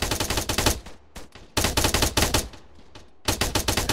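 Rapid bursts of machine gun fire in ARMA 3 combat, loud and close, arriving as three dense volleys separated by short pauses.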